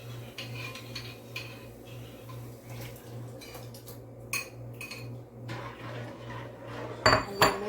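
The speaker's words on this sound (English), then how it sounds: "Make sure you stir it." A spoon scrapes and clinks against a metal pot in repeated stirring strokes through cornmeal porridge over a low steady hum, with a louder clatter near the end.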